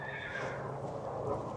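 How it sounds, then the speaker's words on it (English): A horse neighs in a loud, shaky whinny at a gem show, with a dense rumbling background running under it for the whole moment. "I just heard a horse."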